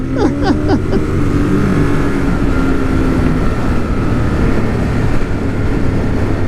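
A BMW S1000RR motorcycle engine idles loudly and steadily up close, with a few quick revs blipped at the start before it settles into a constant drone.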